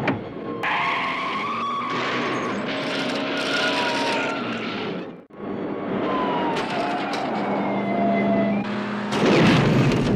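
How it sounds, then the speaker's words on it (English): Car chase from the 1982 film Rambo: First Blood: loud roaring engines and screeching tire skids run throughout, broken by a sudden brief dropout before a crash and blast, then more revving and a heavy burst at the end. "They weren't even driving that fast to cause that explosion"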